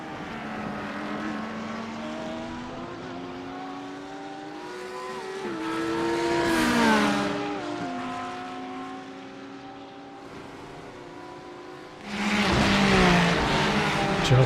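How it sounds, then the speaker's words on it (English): Audi V10 GT3 race car engine in a sim racing game, a loud steady high-pitched drone with rising and falling revs through gear changes and a sharper surge near the end, no talk over it. "Corey trying to use that Audi V10 horsepower to pull away"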